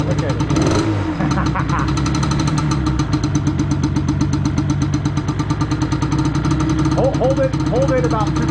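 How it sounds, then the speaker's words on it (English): A small engine on its stock piston and bore runs with the choke off, a loud, close, steady idle with lifts in revs, while voices talk over it. "Turn the choke off and rev it a few times."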